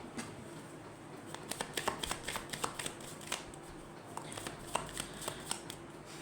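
Tarot cards are shuffled close by in quick riffles and soft flicks, a rapid run of papery snaps that clusters in the middle and trails off, fairly quiet against a faint background.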